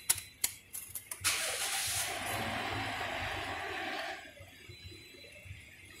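A Toyota Corolla engine starts after a few sharp clicks and knocks, then cranks and catches into a hissy idle that fades to a quieter, low running hum.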